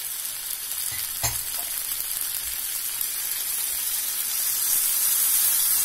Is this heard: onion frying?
yes